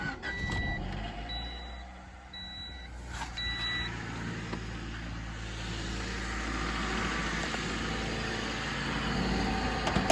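A Honda Civic EJ1 with a swapped K24/K20 engine idles steadily with a low, even rumble throughout, while a few brief electronic beeps chirp near the start.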